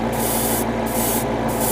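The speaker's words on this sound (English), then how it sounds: "I'm just going to do a complete overall spray of the parts" Airbrush spray coating Bandai HG 1/60 ARX-7 Arbalest model kit parts in an even overall pass, a steady close hiss running throughout with brief dips in the high hiss at regular intervals.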